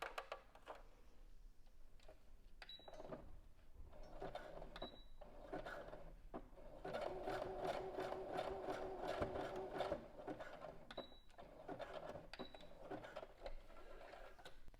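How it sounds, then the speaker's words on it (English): A home sewing machine runs a zigzag stitch across scrunchie elastic, giving a soft ticking mechanical hum in short runs and one longer burst, fairly quiet and close. "Then I'm going to line up both the ends together and sew this at the sewing machine."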